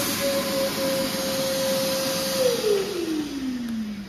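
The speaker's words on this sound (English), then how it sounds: "I will turn on the vacuum cleaner now." Vacuum cleaner powered by a Northway Power Pack 1280 portable battery, a loud steady whirring drone that holds even, then slides downward in pitch as the motor winds down.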